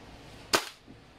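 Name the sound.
WE M4A1 airsoft gun firing a BB through a chronograph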